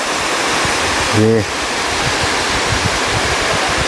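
A waterfall pours with a steady, loud broadband roar, close by; a person briefly exclaims over it.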